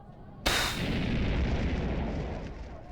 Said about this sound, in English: Fire breath comes in handy.